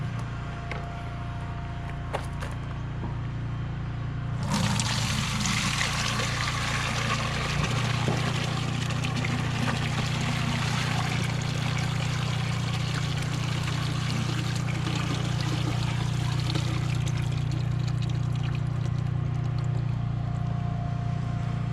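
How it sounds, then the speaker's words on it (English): Water from a bucket of clay-making material pours steadily through a strainer for a long stretch, a continuous splashing rush that swells after a few seconds and keeps going without pause. "make sure all the water goes through the strainer"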